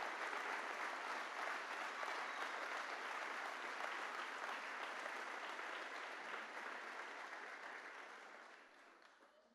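A church congregation applauds in a sustained, dense burst of clapping that holds steady, then slowly fades toward the end.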